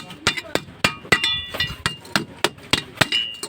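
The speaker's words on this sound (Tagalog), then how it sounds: "Gamit tayo ng martilyo, no?" Sharp metallic hammer blows strike a washing machine's metal bushing about every third of a second, ringing briefly with a clinking tone, close and loud.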